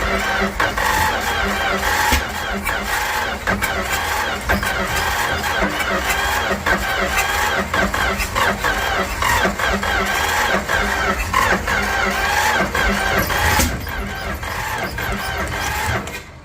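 A late 1960s A108 van engine cranks and sputters as it struggles to catch. The rough, loud, close churning runs steadily for about 16 seconds, with no voices over it.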